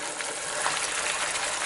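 Onion paste sizzles steadily in hot oil, a dense, even hiss with no break across the short stretch and no voices over it.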